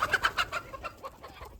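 Hens cluck in a quick run of short, close calls that fade into softer, scattered clucks.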